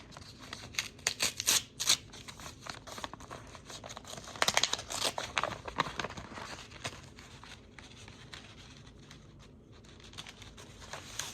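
Paper crinkling and tearing as a thin envelope holding about two sheets, a mailed death certificate, is ripped open by hand, close and moderately loud, in bursts with quieter handling between.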